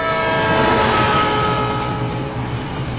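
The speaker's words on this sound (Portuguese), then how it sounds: "Percebemos o efeito Doppler quando ouvimos o apito de um trem em movimento." A loud train horn blares continuously and steadily fades, its tone sliding lower as it moves away, over rumbling rail noise.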